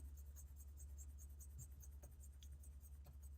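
Soft, rhythmic scratching of a pencil shading on paper, close and quiet, repeated strokes over a faint low hum.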